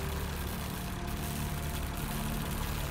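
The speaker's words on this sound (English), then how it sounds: "Judging by the engine noise and the smell, there are diesel generators in this shed." A steady, low diesel generator drone in a video game shed, like a generator idling nearby, with a constant rumble and no pauses.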